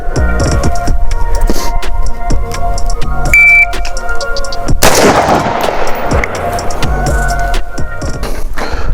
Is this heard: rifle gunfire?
yes